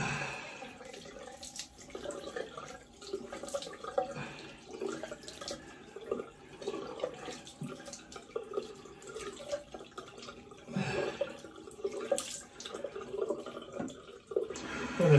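Water running from a bathroom tap while a razor is rinsed during a wet shave, a faint, continuous splashing trickle with small clinks, steady and fairly quiet throughout.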